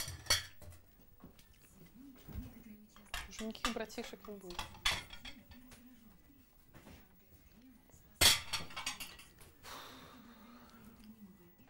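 Dishes and cutlery clink and clatter intermittently close by, with a sharp louder clatter near the end, while people talk quietly over it.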